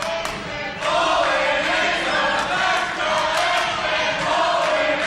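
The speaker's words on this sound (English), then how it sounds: "listen to this crowd response in this action" A wrestling crowd at an IWC indoor event roars steadily in reaction to ring action, a dense, loud wash of cheering and shouting that swells after the first second and holds throughout.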